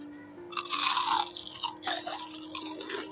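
A crunchy savory snack is bitten and chewed up close, giving a run of crisp, loud crunches that fade into softer chewing, with a faint steady hum underneath.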